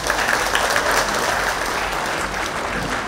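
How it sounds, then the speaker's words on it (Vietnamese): Dense, steady audience applause fills a Vietnamese live music show, a broad wash of many hands clapping at once, loud and sustained throughout with no break. "Bây giờ cho chú một tràng pháo tay."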